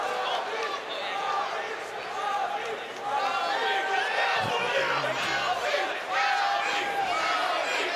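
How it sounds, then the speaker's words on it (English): A karate event crowd roars, with rising chants and shouts from the stands under a busy arena din and intermittent voices. "You hear the chants of Alvey coming from the crowd."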